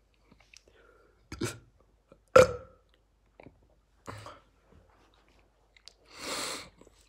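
One loud, throaty burp from a person who has been vaping, sharp and close in a quiet room, with a few small mouth clicks around it and a breathy exhale afterward.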